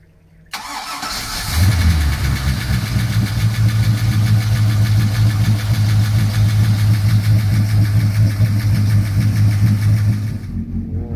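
A Chris-Craft 25 boat's 8.2 Magnum MerCruiser petrol engine cranks briefly, catches and starts, then settles into a loud, steady idle with a deep rhythmic throb that lasts until it cuts.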